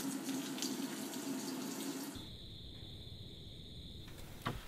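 Water rushes steadily into a twin tub washing machine on its first wash, fed by its own hot and cold supply in an off-grid container home; a broad hiss changes midway to a thinner, higher flow with a whine.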